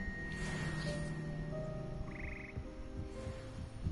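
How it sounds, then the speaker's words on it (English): Frog choir croaking in the Hogwarts music classroom of a wizarding video game, a soft chorus of croaks and tonal calls with faint background music, no talking. "The frog choir."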